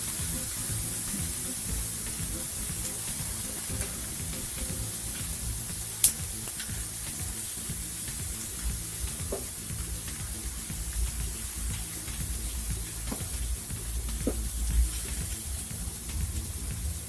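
Cold leftover rice frying in a hot pan, a steady soft sizzle and hiss running evenly throughout with a few faint clinks and stirring taps.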